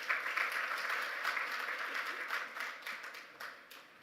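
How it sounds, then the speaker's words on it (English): An audience applauds a welcomed guest at a strategic plan launch event, steady crowd clapping heard from some distance, moderately faint and continuous before tapering slightly toward the end. "A round of applause for him,"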